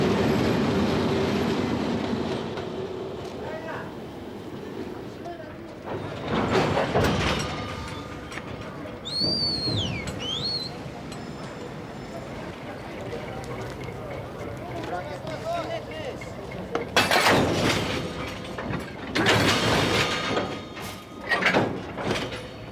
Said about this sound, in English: the stillness is broken by an orgy of shunting